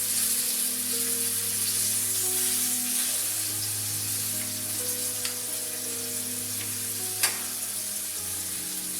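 Chicken pieces frying hard in a very hot pan, a loud continuous close sizzle that runs steadily throughout, broken by one sharp clink near the end.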